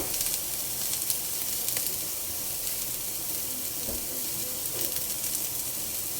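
Garlic, onion and market-bought butter sizzle in oil in a pan. A loud, steady frying hiss runs the whole time with no pauses and no one talking.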